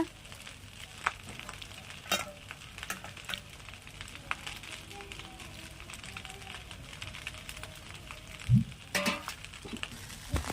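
Cashews and raisins fry in a pan for fried rice, a soft steady sizzle with occasional spoon scrapes and clinks, fairly quiet and close.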